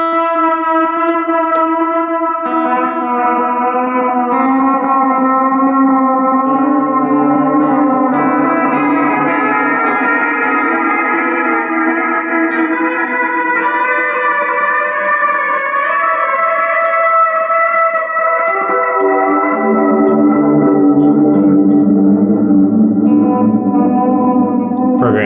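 A guitar played through a Walrus Audio Fable effects pedal on program 1 rings out in sustained, shimmering notes with heavy echo and reverb. Layered tones swell and fade over about twenty-five seconds, with no talking.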